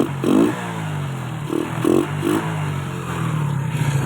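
A motorcycle fitted with a modified air filter idles with a low steady drone, broken by several short throttle blips that swell and fade in quick succession, close by and without talk.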